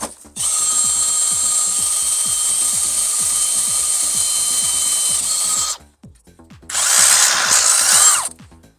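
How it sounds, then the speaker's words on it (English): A power drill runs steadily at high speed for several seconds, stops briefly, then whirs again in a shorter, rougher burst, close and loud, while drilling in a temperature sensor during a pool automation install. "Still got to drill the temp sensor"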